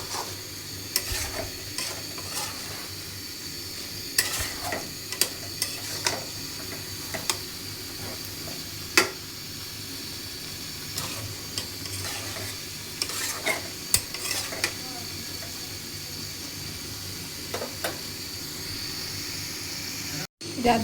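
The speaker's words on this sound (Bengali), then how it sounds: "বেগুন আর টমেটো কিন্তু এখানে কষাই নিতেছি" Eggplant and tomato stir-fried in a pan for a fish curry, a steady sizzle broken by sharp spatula taps and scrapes at irregular intervals, heard up close while a voice talks now and then.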